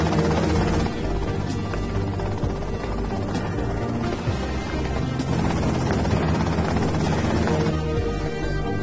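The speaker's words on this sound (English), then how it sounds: "Okay, that's them in the chopper." A helicopter in the video game GTA Vice City drones loudly and steadily with chopping rotor noise throughout, and occasional sharp knocks break through.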